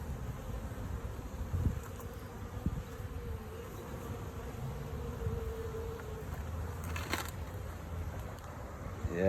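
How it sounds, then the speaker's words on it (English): Honey bees buzz around a beehive in a steady, close droning hum, with individual bees passing near, heard alone without talk. "All right, watch out, bee."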